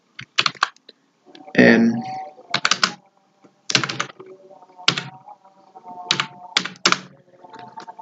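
Computer keyboard typing text, close bursts of rapid key clicks separated by short pauses, with a brief spoken word near the start.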